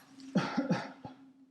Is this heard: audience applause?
no